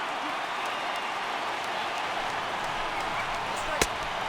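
A baseball stadium crowd of about 35,000 in the video game MLB The Show 18 roars steadily as a constant, dense wash of cheering, with one sharp clack near the end.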